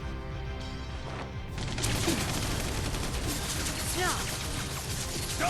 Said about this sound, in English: I don't think they're gonna hear you over the gunfire